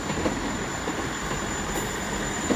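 Class 159 diesel unit 159001 sits at Exeter St Davids station, giving off a steady, even rumble with a faint high whine over it.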